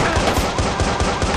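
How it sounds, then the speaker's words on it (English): Gunfire during a riot in the video game Watch Dogs, a dense run of rapid shots in steady rhythm, loud and continuous across the whole moment with no talk over it. "Who is shooting me back?"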